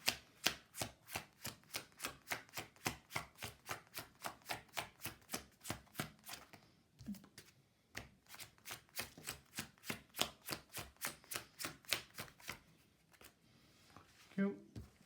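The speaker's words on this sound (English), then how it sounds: "Let me reshuffle that" A deck of Yu-Gi-Oh trading cards being reshuffled by hand: a rapid, even series of crisp card riffles and slaps, about two per second, close and faint, pausing briefly midway before resuming.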